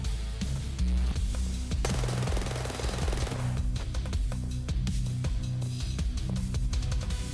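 Rapid bursts of AK-MS rifle fire in the video game Escape From Tarkov, loud and close with sharp repeated shots and brief pauses between bursts, no talking.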